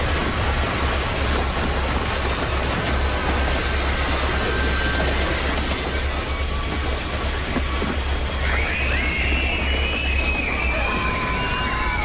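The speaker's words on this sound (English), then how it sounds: "It's just a train." A steady, heavy rumble and roar of a passing train fills the scene, with faint high squeals appearing toward the end.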